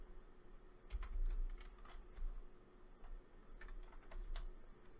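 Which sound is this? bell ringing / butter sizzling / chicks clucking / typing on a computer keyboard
typing on a computer keyboard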